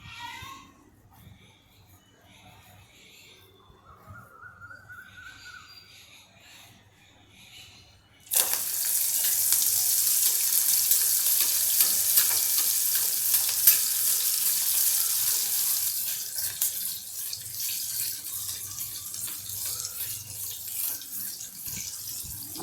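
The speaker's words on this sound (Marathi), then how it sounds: "आता हे पकोडे मी तळून घेतले की तुम्हाला दाखवते" Green pea pakoras dropped into hot oil set off a loud, steady frying sizzle that starts abruptly and runs on continuously, with no talk over it.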